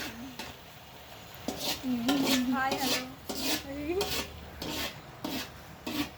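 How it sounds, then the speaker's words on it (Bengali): Pots and dishes clatter and scrape during rice cooking, with a series of short knocks and rubbing strokes close by, interleaved with a person speaking. "আমি এখানে ভাত রান্না করছি"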